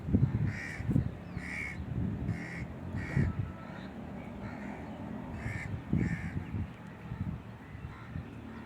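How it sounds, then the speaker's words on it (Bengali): Crows cawing repeatedly outdoors at a park with a fish lake, a series of harsh calls at moderate distance over a low background rumble. "দুটি কাক"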